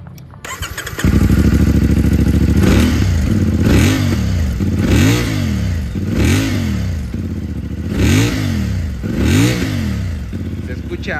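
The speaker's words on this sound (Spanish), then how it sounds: "me gusta mucho el sonido, vamos a escucharla" A CFMoto 450MT motorcycle engine starts and idles loudly, then revs repeatedly in rising and falling bursts, close by, with rough clattering undertones.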